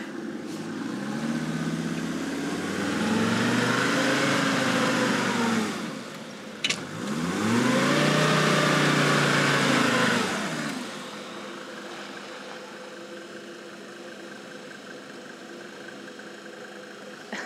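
Rental car engine while driving, rising and falling through two long acceleration sweeps before settling into a steadier, quieter drone.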